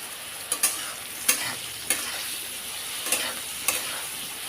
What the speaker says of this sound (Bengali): বেগুনগুলো নুন হলুদ দিয়ে ভেজে নেব